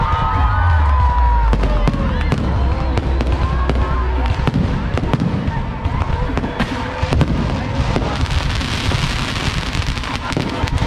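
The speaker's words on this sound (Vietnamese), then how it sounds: "lúc mà pháo bông bắn lên nó không có làm mình thất vọng" Fireworks at a Tet New Year celebration crack and pop continuously, with dense sharp bursts over a low rumble and a steady crowd murmur, and voices talking faintly throughout.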